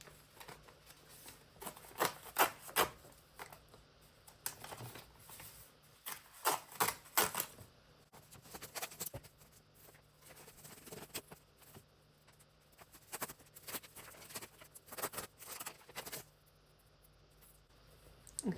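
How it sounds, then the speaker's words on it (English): Foundation papers being torn out of a pieced quilt block in clustered bursts of crisp ripping and rustling, with quiet pauses between, close and fairly soft. "at this point, you can go ahead and tear out the papers"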